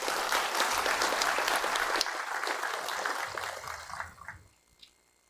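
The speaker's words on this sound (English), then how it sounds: "I propose a vote of thanks for all the participants to be accepted by huge round of" A large room of hackathon participants and guests breaks into a huge round of applause at a grand finale event, dense clapping that tapers off and fades with a few last claps.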